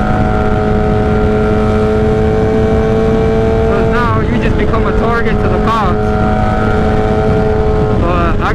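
A 2008 Suzuki GSX-R 1000 with a straight pipe exhaust drones loudly and steadily while cruising in a high gear at low revs, its engine note rising and falling slightly, with someone talking over it.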